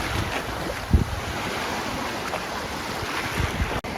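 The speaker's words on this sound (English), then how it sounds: "There, you can see where the waves are breaking." Waves breaking in shallow water at Locarno Beach. A steady, close surf rush mixes with heavy wind buffeting the microphone, with one brief thump and no talking.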